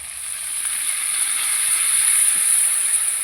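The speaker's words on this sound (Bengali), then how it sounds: "আর আলুর সঙ্গে মশলা ভালো করে কষিয়ে নেব।" Potatoes frying in a pan with turmeric, salt and spices, giving a steady, even sizzle that holds close and constant throughout, with no voices over it.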